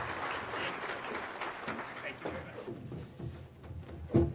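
Audience applause welcoming a keynote speaker to the stage, a fairly faint, dense patter of clapping from a crowd that thins out toward the end.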